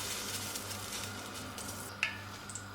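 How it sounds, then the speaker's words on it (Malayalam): Coconut oil going into a pan for beef curry makes a steady, faint hiss with a light sizzling texture and a single small click, heard close and alone. "വെളിച്ചെണ്ണ ഒഴിച്ച് കൊടുക്കുക."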